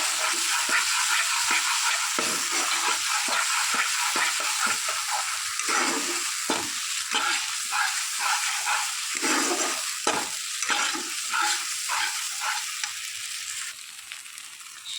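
Spices with a little turmeric stirred in a sizzling frying pan, with steady loud sizzling broken by repeated scraping strokes of the spoon and no talking.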